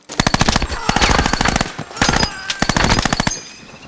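A Thompson submachine gun fires in a World War II Pacific combat scene, with loud, close rapid automatic bursts in two long strings separated by a short pause.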